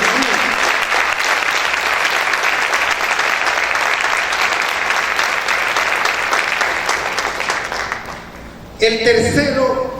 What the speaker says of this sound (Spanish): Dale un fuerte aplauso al Rey del Rey.